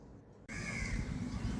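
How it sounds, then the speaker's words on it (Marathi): Outdoors in monsoon weather, a crow caws after a brief quiet, its call joined by a steady wash of wind and ambient noise, moderately near. "पक्ष्यांचा किलबिलाट सुद्धा ऐकायला येत आहे."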